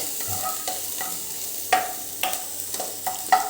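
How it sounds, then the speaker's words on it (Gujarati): Finely chopped green chilies and garlic sauté briefly in a pan for veg Manchurian, with a soft, even sizzle under sharp scraping and tapping stirs of a spoon at irregular intervals, close up and without talk. "અને એક ટીસ્પૂન ઝીણા સમારેલા મરચાં અને થોડુંક આપણે સાંતળી લેવાનું છે એક કે બે મિનિટ જ"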